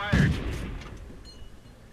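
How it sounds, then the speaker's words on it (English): The main gun of a Somua S35 French medium tank fires once in World of Tanks, a single heavy boom near the start that trails off into a fading rumble. "Oh, I stop here, try to get some shots in."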